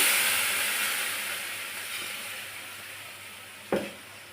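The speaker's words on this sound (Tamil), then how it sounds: "அரைச்சி வச்சுருக்க பேஸ்ட்டை ஊற்றிக்கலாம்" Ground paste hits hot oil with fennel and curry leaves in a pan, throwing a loud broad hissing sizzle that slowly fades, with a single sharp knock near the end and no talk.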